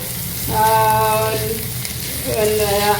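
Crushed garlic and ginger sauté in oil for a Kerala chicken dry-roast with a close, steady sizzle, while tonal whistling or humming rises over it twice, briefly.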